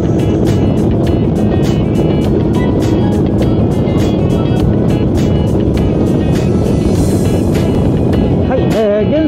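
A Yamaha Serow motorcycle cruising on a toll expressway makes a loud, constant engine drone smeared with heavy wind roar, steady throughout with a brief wavering tone near the end.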